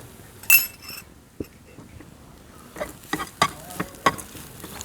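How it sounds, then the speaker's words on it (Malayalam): Cumin seeds and sugar being stirred and roasted in a pan, giving scattered scraping and clinking strokes with a faint sizzle, fairly close and otherwise quiet. "അത് നല്ലപോലെ മിക്സ് ചെയ്തിട്ട് ഒന്ന് റോസ്റ്റ് ചെയ്തിട്ട് റോസ്റ്റ് ചെയ്തെടുക്കണം"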